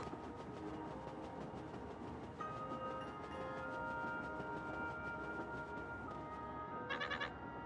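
A train ride in Paper Mario: The Thousand-Year Door carries a continuous rumbling, clattering rail-car ambience with sustained musical tones laid over it and a brief bright tinkling flourish near the end, heard at low volume without talk.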